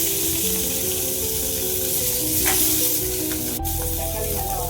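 Chopped tomato dropped into a pan of oil with reddened urad and chana dal, a steady close sizzle with a brief spatula scrape and a sharp clink, no voices.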